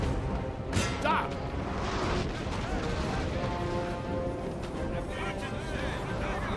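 Cannons boom in Napoleon Total War during a British campaign battle, several distant heavy blasts mixed with battlefield noise while someone talks over them.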